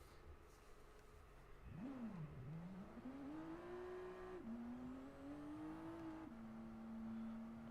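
A pace car engine in a Le Mans racing game revs up with a rising whine, then holds a steady, sustained drone with a couple of shifts in pitch, heard faintly and alone.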